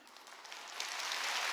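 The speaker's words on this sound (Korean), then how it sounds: "박수 세게 치라고요." A church congregation at a Sunday worship service applauding, heard as a dense, steady wash of clapping that swells gradually louder over a moment and carries on without a break.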